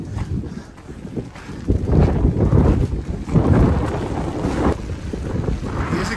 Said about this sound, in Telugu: గాలి మాత్రం టూ మచ్ ఉంది.